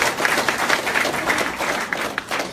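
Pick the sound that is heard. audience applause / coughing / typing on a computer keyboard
audience applause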